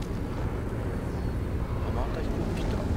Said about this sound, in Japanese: また飛行機来た。